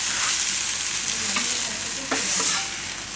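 Pav buns toasting in oil on a pan with bhaji, a steady close sizzle and frying hiss with soft stirring scrapes and no speech.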